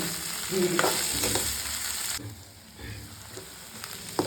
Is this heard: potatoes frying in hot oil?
yes